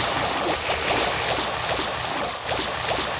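Water flows steadily in a Minecraft recreation of a Tomb Raider 3 level, Thames Wharf, a continuous rushing wash with gentle surging, loud and close, with no voices.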